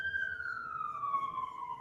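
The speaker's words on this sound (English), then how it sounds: "That siren." Emergency vehicle siren wailing near a hillside hospital, a single loud, sustained tone sliding slowly downward and carrying clearly over a low background rumble.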